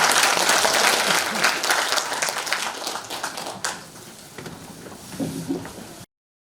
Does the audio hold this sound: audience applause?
yes